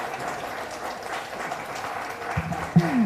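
Audience applause at a cultural event celebrating the Papiamentu language, a moderate, even patter of clapping for about three seconds, joined by a brief louder thump and a tonal sound near the end.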